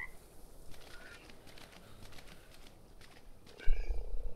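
Frogs croak in a swamp in the video game ARK, a soft, steady chorus of calls with a louder burst near the end, faint and without speech.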